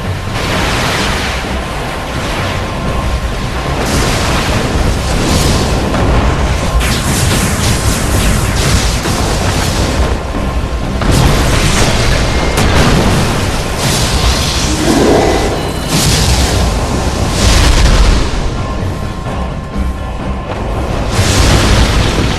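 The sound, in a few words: space battle weapons fire and explosions in anime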